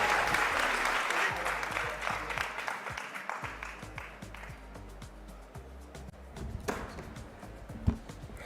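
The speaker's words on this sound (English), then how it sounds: "give him and the entire panel a massive round of applause" A conference audience applauds a panel at a community health systems event, a dense, steady wash of many hands that is loud at first and slowly thins out, with a sharp clap or thump near the end.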